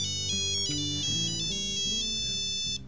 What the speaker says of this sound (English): And the cell phone rings.